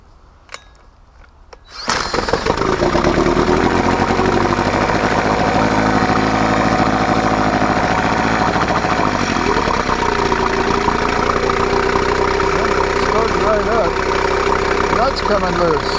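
An old Mercury engine turns over and catches after a quiet moment, then settles into a loud, steady idle with a rough mechanical rattle that continues to the end.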